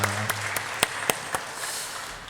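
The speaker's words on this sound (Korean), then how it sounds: "박수로 격려하겠습니다." A church congregation gives a round of applause for the worship team after a Friday service, heard as a handful of sharp, evenly spaced claps that ring out in a reverberant hall before trailing off.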